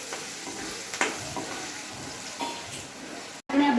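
Potatoes with chilli, salt and turmeric cook in a pan for sabudana khichdi, giving a soft, steady sizzle with occasional stirring scrapes before an abrupt cut to a brief, different sound.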